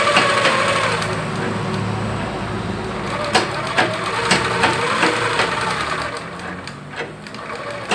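A sewing machine stitching the lining of a round-neck blouse back, running in a steady, close mechanical whir with a few short pauses and restarts, while someone talks over it.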